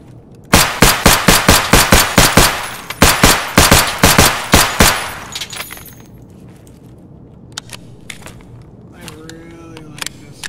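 Glock 17 pistol gunfire in Escape from Tarkov: rapid loud shots in two bursts of roughly a dozen each, then a few scattered quieter clicks and shell or casing sounds.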